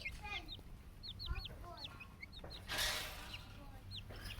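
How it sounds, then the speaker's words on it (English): Young chicks cheep in short rising peeps while pecking at grass outdoors, with a steady low background hum and a brief louder rustle partway through. "Now we're going to do a chickie field trip where they go outside and they experience pecking at grass."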